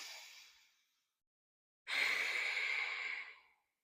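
Two breaths during a gentle yoga flow: a soft, fading exhale, a pause of silence, then a deeper, fuller breath lasting over a second, close and alone.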